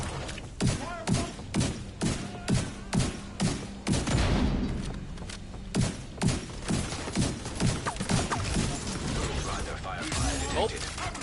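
Rapid gunshots in The Division 2 on Roosevelt Island as a player fires at a trap, a regular series of sharp thumping shots roughly every half second, briefly interrupted and then resuming, with mechanical clatter between them.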